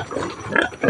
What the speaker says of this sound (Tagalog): Kaubot mga baboy ba?